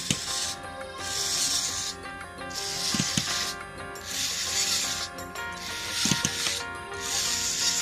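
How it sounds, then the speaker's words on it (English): A 3D-printed InMoov robot hand drives its fingers through tendons, producing repeated whirring, rubbing mechanical bursts in a regular rhythm, close and fairly loud, with brief clicks between cycles. "I've got the third finger moving"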